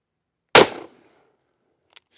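A Cimarron Badboy .44 Magnum fires a single 200 grain XTP round at an outdoor range, a loud, sharp blast that rings out and decays over a fraction of a second, followed by faint small clicks.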